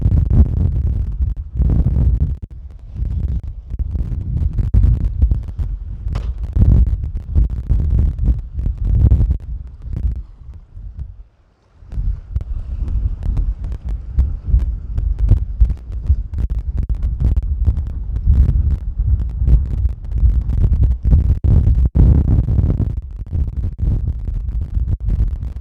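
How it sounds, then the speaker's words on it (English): Loud, continuous wind buffeting a microphone, deep rumbling gusts that surge and drop, with a brief lull partway through. "I will just show you around the body without talking because it's too windy"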